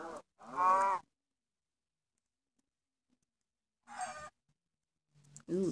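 Cows moo in Minecraft Pocket Edition, two short lowing calls at about half a second and four seconds, followed by another brief call near the end, each separated by silence.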